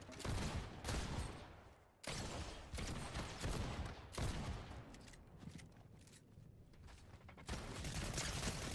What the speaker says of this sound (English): Okay, not a big fan of that shotgun.